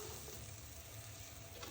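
Prawns with turmeric, green chillies and garlic paste fry in a pan, a faint, steady sizzle with soft stirring and no talk.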